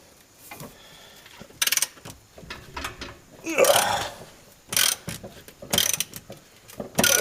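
A ratchet works a rear upper control arm bolt on a 2002 Honda Civic, clicking in close, uneven bursts with pauses and soft mechanical clatter between them.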